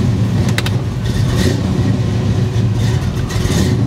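Chevrolet Nova engine turning over and running, a loud steady low rumble with no distinct crank or start moment, heard close.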